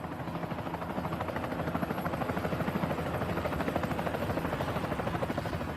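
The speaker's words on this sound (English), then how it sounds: "The small helicopter can barely lift her, and the ground team must help before the pilot manages to get his precious cargo airborne." A small helicopter strains to lift off carrying a heavy load while a ground team helps, its rotor chopping in a steady, rapid, continuous beat with an engine drone and no voices.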